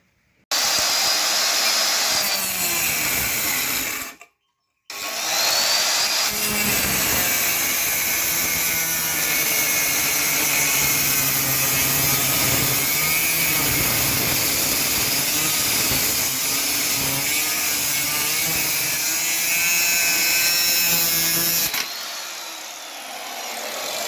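A power tool cuts through the bend pipe of a TVS Wego scooter silencer with a loud, continuous high-pitched whine that runs for about twenty seconds, broken by one short pause near the start before the cut resumes.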